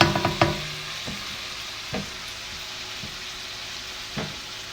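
Bacon frying in a pan, with a steady soft sizzle and a few clinks and scrapes of a utensil at the start and now and then after that.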